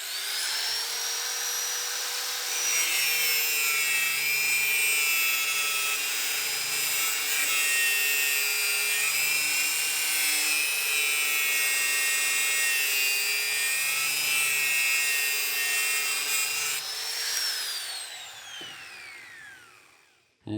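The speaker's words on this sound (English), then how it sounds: "Now Paul is cutting the rebar. It's 18 bars in total" Steel rebar being cut at a building site in Costa Rica gives a loud, steady high-pitched grinding whine that holds for about fifteen seconds, then the tool spins down and the sound falls away.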